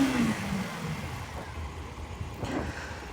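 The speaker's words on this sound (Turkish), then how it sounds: "Birazcık gaz açalım." RKS A250 motorcycle engine revving, a fairly loud nearby engine that swells at the start, settles into a steady running note, then lifts again with a brief throttle blip near the end.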